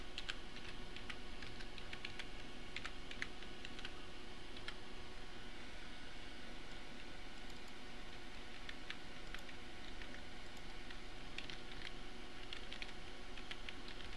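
Steady soft typing on a computer keyboard while entering a password during a PayPal-linked survey site sign-up, light clicks in a continuous patter over a quiet background hiss, no talking.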